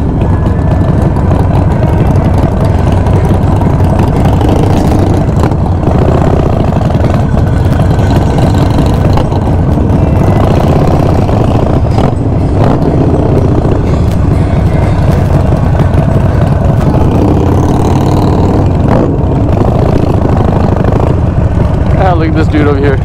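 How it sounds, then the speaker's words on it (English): Custom 2004 Harley-Davidson Sportster engine idling with a loud, steady low rumble that holds throughout, with other bike engines and voices mixed in during a charity ride gathering. "Sportster's rolling out."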